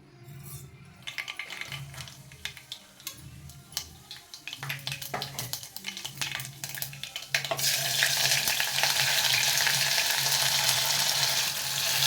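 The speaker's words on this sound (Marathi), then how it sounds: "कांदा एक दोन तीन मिनिट भाजून घेतला" Onion fries in a pan for masale bhat, a spiced rice dish. At first there are sporadic clinks and scrapes of stirring, then the sizzle swells into a loud, steady crackle close by, with no talking.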